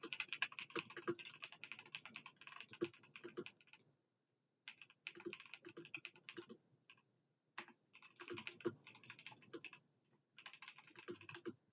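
Fast clicking of typing on a computer keyboard comes in bursts of keystrokes separated by short pauses, close and fairly quiet, with no voices.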